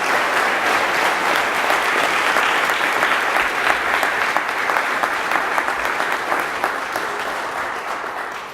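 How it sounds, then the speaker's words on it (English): A lecture audience breaks into loud, sustained applause after a presidential lecture by an invited scholar, dense clapping holding steady for the whole stretch and easing only slightly toward the end. "So let's give him another round of applause."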